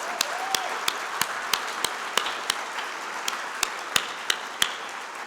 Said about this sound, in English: can we just give a round of applause for all of you and the work that you're doing?